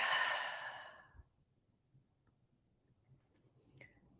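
A single soft exhale through the mouth, a breathy sigh at close range during a guided breathing exercise, fading out within about a second and leaving near-silence with faint rustles.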